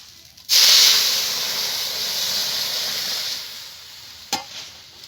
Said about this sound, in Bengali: এবার আমি ডালটা দিয়ে দিচ্ছি।